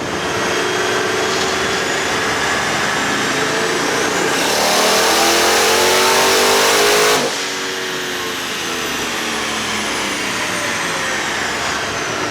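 A twin-turbo Pontiac G8 GXP on a dyno runs a partial pull on pump gas, its engine roaring loud and close as it climbs steadily in pitch, peaks with a harsh surge, then drops back to a steady drone.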